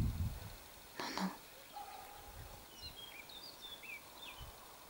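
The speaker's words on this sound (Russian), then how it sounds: "Соловьи поют." Faint nightingale song in the distance from a small valley: short, thin whistled phrases repeated over quiet outdoor background with a brief rustle near the start.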